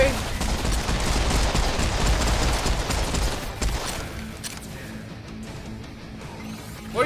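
Dense, loud gunfire from the video game Serious Sam 4, a sustained rapid barrage with a heavy low rumble for about four seconds before it tapers into quieter game ambience with scattered shots.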